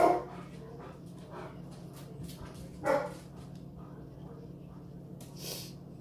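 A few dog barks, one loud at the start and another a few seconds later, with a soft yip near the end over a quiet hum.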